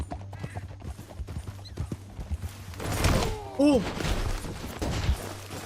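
Horse hooves clip-clop in rapid, uneven patter in the video game Red Dead Redemption 2, with a short neigh mid-way and game sounds around, while a person talks over the gameplay.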